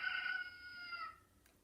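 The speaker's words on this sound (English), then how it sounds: "It's a big rooster, waking everyone up early in the morning." A big rooster crowing on a farm, one faint drawn-out cry that trails off after about a second, alone with nothing else around it.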